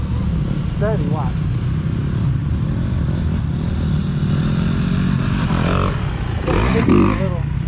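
Honda CRF 450L dirt bike (2019) at an off-road park riding up a freestyle ramp at steady throttle, its engine droning continuously and fairly near under people talking.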